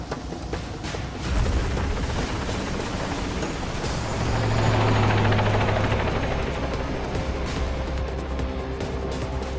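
A helicopter roars steadily close by while flying through a meandering gorge in Zambia, its rotor thudding and engine whining as it swells louder midway and sweeps past.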